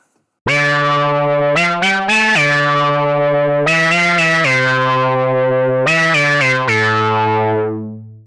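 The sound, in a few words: synth bass from old VST collection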